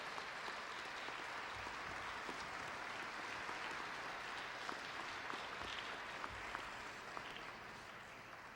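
A high school hall of fame induction audience gives sustained, even applause for Dale Woodland, the clapping steady and somewhat distant across the whole stretch with a few sharper individual claps standing out.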